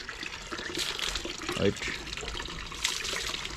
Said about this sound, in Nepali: यसरी साइकल धुनुपर्छ